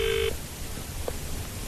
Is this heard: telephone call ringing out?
yes